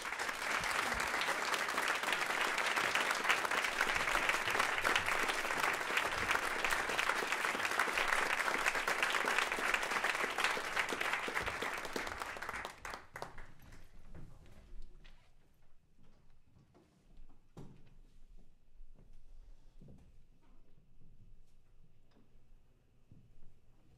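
An audience applauds to welcome violinist Francisco Fullana at an awards event, loud sustained clapping for about thirteen seconds that then fades to scattered faint claps and quiet room noise.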